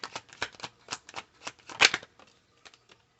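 Tarot cards are shuffled and drawn by hand in a quick series of crisp, close flicks and riffles that taper off into a few softer taps.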